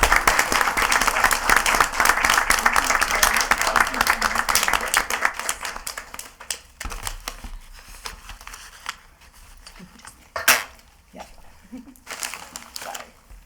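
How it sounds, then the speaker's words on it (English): Meeting audience applause at a school committee session, dense sustained clapping for about six seconds that thins into scattered claps and quieter room noise. "How about one more round of applause?"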